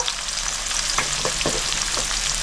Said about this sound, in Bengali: বন্ধুরা উস্তেটা আমি হালকা লাল করে ভেজে নিয়েছি